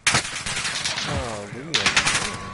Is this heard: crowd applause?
no